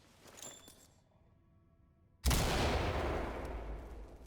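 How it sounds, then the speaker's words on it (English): Flashbang grenade detonating in the tactical shooter Ready Or Not, a sudden loud, sharp bang after a near-silent pause, followed by a long ringing, noisy tail that slowly fades. "Throw a flashbang."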